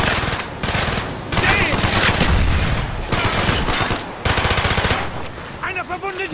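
Heavy automatic gunfire rattles in dense, loud bursts in the video game Call of Duty Black Ops, with brief pauses between volleys and a shouted voice cutting in near the end.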